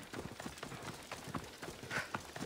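Horse hooves clip-clopping at a quick gait in the video game Assassin's Creed Odyssey; steady rhythmic footfalls, fairly quiet, running throughout without speech.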